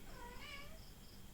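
A house cat gives a single faint meow indoors, a soft, short rising-and-falling cry over low background hum.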